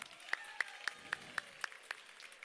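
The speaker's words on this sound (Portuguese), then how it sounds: "Rapaz, eu faço tudo isso acontecer pra vocês baterem essas palmas pra mim." An audience at a children's show with a clown claps in unison, giving about eight sharp, evenly spaced claps that sound moderately distant and soft, with no voices over them.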